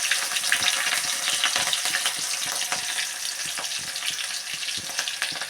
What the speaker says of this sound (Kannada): ಮೆಣಸಿನಕಾಯಿ ಹಾಕಿ